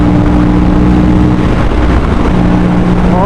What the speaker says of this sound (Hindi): और क्विक शिफ्टर का साउंड अगर आपको सुनाई दे रहा है,